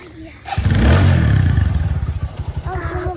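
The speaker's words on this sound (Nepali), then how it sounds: "हामी जाँदैछौँ बाइकमा चढ्दैछौँ हामी" A motorcycle engine starts up close and runs with a loud, pulsing throb that settles into a rhythmic idle, with brief voices at the start and end.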